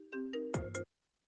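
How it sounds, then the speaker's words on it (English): A mobile phone ringtone plays a short, bright melodic phrase of four quick chiming notes, close and clear, then cuts off into silence. "That was my phone."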